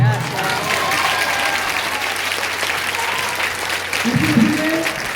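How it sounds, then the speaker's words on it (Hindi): A church congregation claps loudly and steadily throughout a worship service, a dense sustained wave of applause with crowd noise underneath. "यीशु मसीह के लिए अगर कोई तगड़ी ताली भी बजा देगा तो भी आशीष पाएगा"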